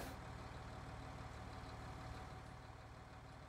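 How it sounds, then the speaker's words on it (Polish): A tractor engine in Farming Simulator 19 drones steadily at idle, a continuous low rumble with a faint pulsing throb and no voices. "Ciągnik."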